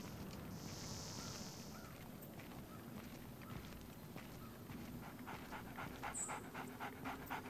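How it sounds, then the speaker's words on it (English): Two guard dogs pant in quick rhythmic breaths in the Splinter Cell stealth game, faint and steady under a low ambient hum, with no talking. "So, we got two dogs here."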